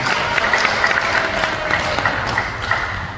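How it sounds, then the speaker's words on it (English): An audience at a 2022 high school college-prep scholarship awards ceremony gives a steady round of applause, a dense continuous wash of many hands clapping that holds at an even level throughout. "give yourselves a round of applause for the work that you've committed and done"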